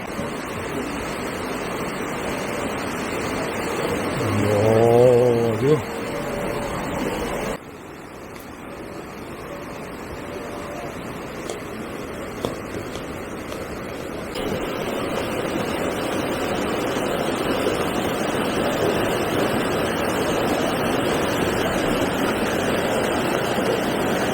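Steady rushing water noise of a strongly flowing stream near Magoksa temple, Gongju, broad and continuous, with a brief louder patch early on before settling into an even, strong flow.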